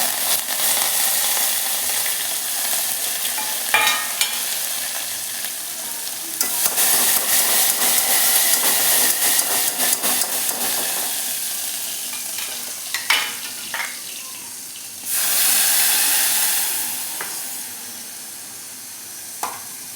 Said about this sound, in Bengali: আমি এই যে সামান্য একটু সরষ দিয়ে দেবো। এই যে কেটে রাখা রসুন, কাঁচা লঙ্কা আর